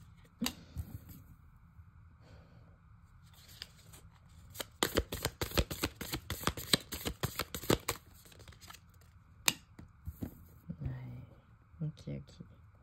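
Tarot cards being shuffled close up: a dense flurry of riffling card snaps in the middle, with softer handling and sliding sounds before and after, and someone speaking quietly at times.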